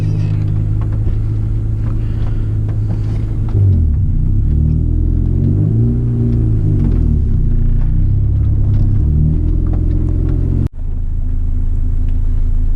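A Honda CRX engine drones loudly from inside the car while driving, its pitch sweeping up and down as it accelerates and shifts, with a brief dip near the end and no talk.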